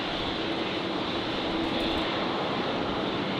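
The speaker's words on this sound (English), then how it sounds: "Virgin 1101. Just on final now on 19 left, arriving from Newcastle" Virgin-operated Fokker 100 airliner on final approach to runway 19 left at Brisbane Airport in windy conditions, a steady, continuous broadband jet roar with no speech, constant in level throughout.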